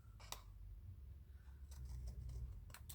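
Soft, faint snips of scissors cutting through papercraft card, a few quick strokes at the start and more near the end.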